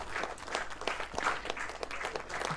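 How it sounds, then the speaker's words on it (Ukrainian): Stadium crowd at Probiy Arena applauding during a football match, uneven clapping heard at a distance with irregular bursts and dips, fairly faint and without talk. "ось чуєте ви оплески від пробій арени"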